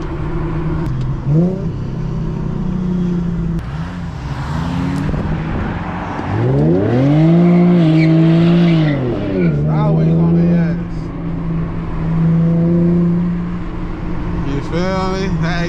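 A stock Infiniti G37 and a Dodge Challenger GT accelerate hard on a highway, engines revving loud and close with rising, swelling pitch through several gear pulls, and voices come in at times over the engine noise.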